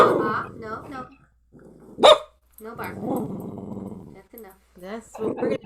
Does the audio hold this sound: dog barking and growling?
yes